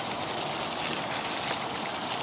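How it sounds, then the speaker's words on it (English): Continuous rushing splash of a small waterfall nearby after rain, a dense steady hiss with no pauses or voices. "it's a little mini waterfall"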